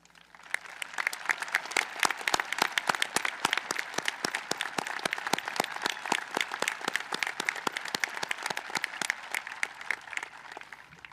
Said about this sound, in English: Let's give these brave individuals a round of applause.